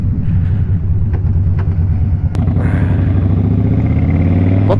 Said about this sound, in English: it feels good to be on a bike